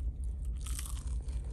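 Someone bites into crunchy fries, a crisp crunch near the mouth followed by a little chewing, close and moderately loud with no talking.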